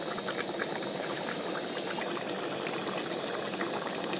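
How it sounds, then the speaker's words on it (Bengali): Fish curry broth with onion and garlic bubbling in a pot, a steady, fairly loud simmering hiss and bubble that runs unbroken with no talk. "বন্ধুরা দেখুন ঝোলটা ফুটে গেছে"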